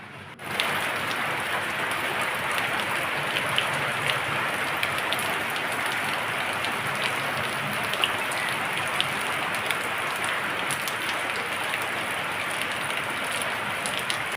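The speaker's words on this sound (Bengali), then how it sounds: "দেখি কখন বৃষ্টিটা নামি।" Steady rain pours down outdoors in a dense, even hiss of drops hitting surfaces, constant and fairly loud throughout with no voices.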